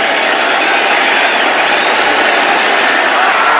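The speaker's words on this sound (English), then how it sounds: "It gets the crowd involved here at M&T Bank Stadium" Football crowd at M&T Bank Stadium during a Ravens–Titans AFC Divisional playoff game, a steady, loud roar of cheering and noise filling the whole stretch without letup.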